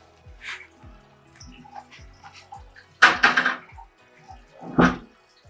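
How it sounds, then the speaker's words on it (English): Concentrate water from a water treatment system splashes into a measuring cup in short bursts, with a long gush and a shorter one over light dripping and quiet background hum. "This is our concentrate water. We're going to go ahead and measure this in 15 seconds, how many ounces of water we get."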